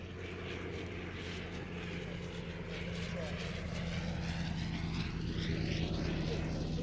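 A vintage Avro 504 biplane, once used as a glider tug, drones steadily with its engine and propeller at a display, a continuous rumble under a commentator's voice.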